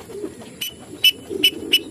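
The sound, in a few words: pigeons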